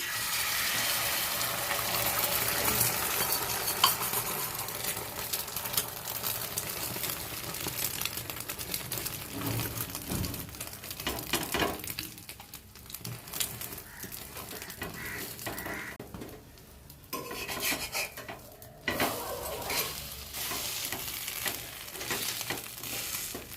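Beaten egg with onion and chilli frying in oil on a flat griddle for egg toast, a continuous close sizzle with scraping and shifting textures that thin out briefly midway before resuming.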